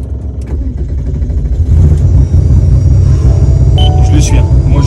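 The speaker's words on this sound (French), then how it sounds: "Ok, premier démarrage." Porsche RWB car engine starting up, a deep rumble that swells into a loud steady idle close by, with someone talking over it.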